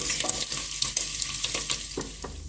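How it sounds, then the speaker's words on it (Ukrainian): Diced pork fat cracklings frying in a pan, a steady close sizzle broken by irregular crackles and occasional stirring scrapes. "І продовжуємо смажити, щоб шкварочки були золоті."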